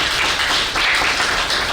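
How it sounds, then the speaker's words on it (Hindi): A seminar audience applauds with steady, dense clapping that fills the whole moment at a loud, even level, with no talk over it. "एक बार जोरदार ताली के लिए"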